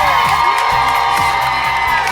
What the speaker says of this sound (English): Hey, they are cheering, the fans here.